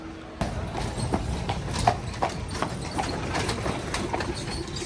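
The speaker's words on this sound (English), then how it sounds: "Just got random horses walking down the streets." Horses walk along a street in Palma, Mallorca, their hooves giving a steady clip-clop on pavement at a relaxed walking pace, fairly close, over a broad wash of city background noise.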